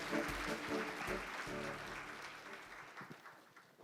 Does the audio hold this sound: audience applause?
yes